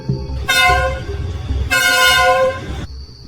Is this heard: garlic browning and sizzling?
no